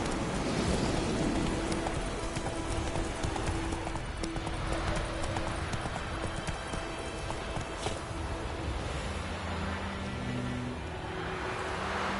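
Roach the horse in The Witcher video game gallops with rapid, steady hoofbeats close up, continuing for about twelve seconds over game ambience, with a brief whinny.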